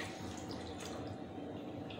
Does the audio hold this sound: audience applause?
no